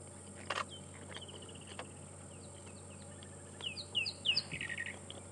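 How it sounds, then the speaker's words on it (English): On a sunrise safari drive in Africa, a rattling cisticola sings clear repeated chirps and a quick rattling trill, soft at first then building to a louder cluster of notes near the end, with no talking. "This is a rattling cisticola. This is an awesome calling."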